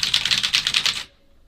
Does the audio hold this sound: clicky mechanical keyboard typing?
yes